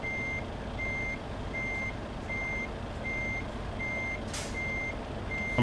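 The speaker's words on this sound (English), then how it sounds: "Actually, let me just take that out of reverse." Truck reversing alarm in Euro Truck Simulator 2, a steady series of evenly spaced electronic beeps, about eight in a row, over a constant low engine idle rumble, with no talking.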